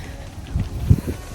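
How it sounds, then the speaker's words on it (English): Low, gusty wind buffeting the microphone in a couple of soft bursts, close and rumbling. "You see, it's windy now. There is some wind"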